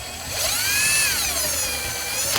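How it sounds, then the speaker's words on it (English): A 3/8-inch impact gun with a 10 mm socket whirs and spins up while tightening a plastic headlight mounting bolt on a 2009-2018 RAM 1500, a short rising and falling whine heard close and alone. "take my 3/8 gun with my 10 millimeter"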